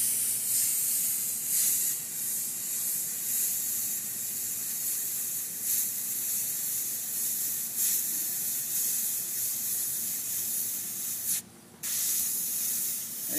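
Airbrush hiss as paint is sprayed to lay down drop shadows, a steady, close, continuous spray with small surges and one brief pause near the end.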